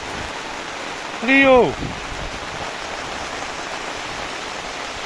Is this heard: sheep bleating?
no